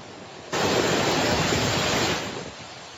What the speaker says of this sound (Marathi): सिंधुदुर्गमधला सावडाव धबधबा आता जोरदार पावसामुळे प्रवाहित झालेला आहे।